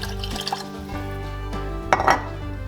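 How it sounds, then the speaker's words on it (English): Homemade tomato juice poured into a glass jar of store-bought juice in a kitchen, with a low liquid gurgle, soft clinks and a sharper glassy clatter near the end, close and moderately loud. "Here's some of that delicious homemade tomato juice. What we're going to do is pour it into the jar of store-bought stuff."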